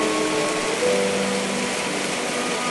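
Steady rain falls around a rural farm homestay in southern Isan, Thailand, during Storm Noru, a continuous even hiss of drops with no talking.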